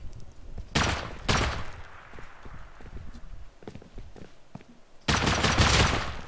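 Gunfire in a video game comes in two loud, close bursts of rapid shots, one early and another at the end, with quieter game ambience between them.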